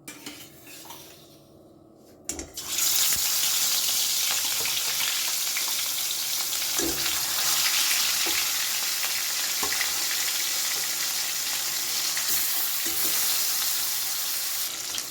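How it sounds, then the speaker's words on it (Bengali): Rohu fish pieces frying in a pan give a loud, steady sizzle that starts suddenly after a quiet moment and crackles on without a break, with a few faint clinks of utensils. "এবারে আমি একে একে মাছগুলো ভেজে নেবো"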